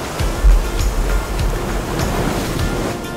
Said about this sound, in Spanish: Estamos cerca de volver a sentir la brisa del mar.